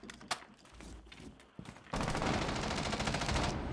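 Rapid automatic gunfire in Rainbow Six Siege bursts out loud and sustained after a few scattered shots and thumps, dense repeated cracks filling the last couple of seconds.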